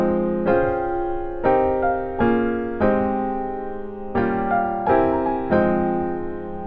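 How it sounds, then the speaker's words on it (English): Piano plays the chords of a song in root position with the melody on top, seven sustained chords struck one after another in a steady, clear rhythm. "So if I play it with the melody all in root position, it'll sound something like this."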